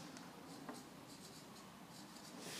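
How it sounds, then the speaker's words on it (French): Close up and soft, a spectator signs a playing card with a pen, a quiet scratching of pen tip on card in a few short strokes over faint background hiss. "Vous lui demandez de signer la carte."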